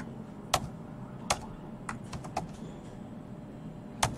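Sparse keystrokes on a computer keyboard while writing CSS code, a handful of crisp separate clicks spread out irregularly, close and fairly quiet with no talking.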